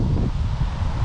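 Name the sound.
wind blowing in a cemetery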